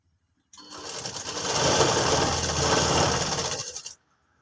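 Sewing machine stitching garments during tailoring alterations, a steady continuous motor whir with rapid needle clatter running about three and a half seconds, close and loud, starting and stopping abruptly.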